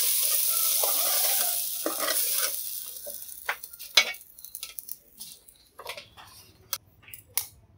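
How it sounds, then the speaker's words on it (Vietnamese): Jicama and carrot stir-fried in a pan for vegetarian summer rolls, with a steady sizzle and scraping stirs, then sharper clinks and scrapes of a utensil against the pan as the frying quiets. "Mình bắt lên chảo mình xào, nêm nếm thì nó vừa ăn."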